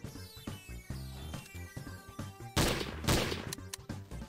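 Gunfire in Trouble in Terrorist Town, a rhythmic pattern of repeated shots under a patterned game backdrop, building into two louder, denser bursts near the end.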